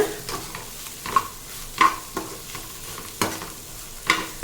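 Vegetables sautéing with a little salt in a pan, quiet sizzling under several sharp scrapes of a spoon stirring at irregular intervals, close up and without speech.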